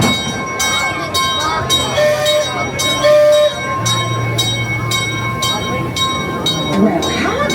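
Calico Mine Train ride at Knott's Berry Farm rumbles along with rhythmic clacking, bell-like dings and a long horn-like tone, with voices talking over the ride noise.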